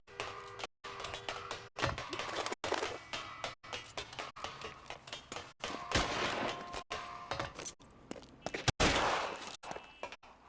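Gunfire in the video game L.A. Noire during a rooftop chase, a series of sharp, loud shots spaced irregularly across the clip with a bustling background between them.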